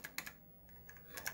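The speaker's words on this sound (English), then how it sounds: "as I type out" Keys clack on an Apple //c computer keyboard in quiet, sparse clusters of soft clicks, close by and faint.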